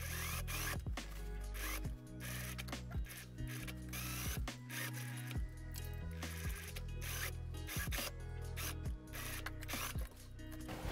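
A sewing machine stitches a dirndl skirt seam with a normal straight stitch, its mechanism whirring and clicking steadily in close, continuous bursts with brief pauses, no voices.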